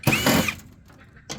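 A power drill whirs briefly and loud up close as it backs screws out of a scrapped microwave housing, followed by quieter handling sounds and another short burst.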